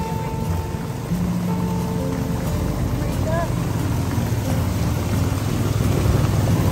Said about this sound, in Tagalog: Lakas po ng ulan dito sa Baklayon.